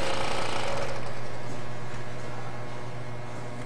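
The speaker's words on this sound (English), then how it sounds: "it's time to basically unplug the filter pump" A wine filter pump runs steadily and loudly, a continuous motor hum with broadband noise that stays constant throughout, with no other sounds on top.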